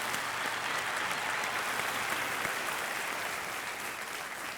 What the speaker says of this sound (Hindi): इसके लिए आपका हम अभिनंदन करते हैं तालियों के साथ